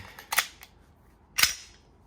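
A Glock 48/43X pistol fitted with a Shield Arms S15 magazine fires two sharp, loud reports about a second apart, each with a short ring-out, before falling quiet.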